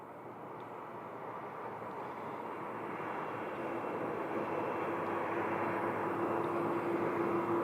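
An airliner rolls toward the runway at Phoenix Sky Harbor airport, its steady broadband jet engine roar swelling gradually louder over several seconds, with a faint rising whine emerging near the end.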